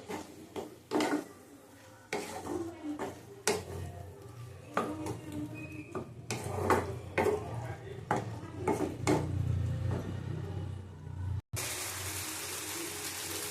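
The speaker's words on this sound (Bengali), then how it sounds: "ভালো করে আবার কষিয়ে নেব" Chicken and spices are sautéed in a pot, with a spoon scraping and knocking against the metal in uneven bursts over a low cooking rumble. Heard up close, with no voices, and it ends in a brief burst of steady hiss.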